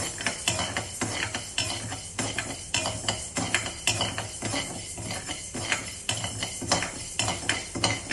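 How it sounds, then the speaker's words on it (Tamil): Three-quarters of a cup of urad dal dry-roasts in a pan while a spoon stirs it, making rhythmic scraping strokes and rattling lentils at a steady pace with no talking. "நான் 3/4 கப் உளுத்தம்பருப்பு போட்டிருக்கேன். இது கொஞ்சம் வறுபடட்டும்."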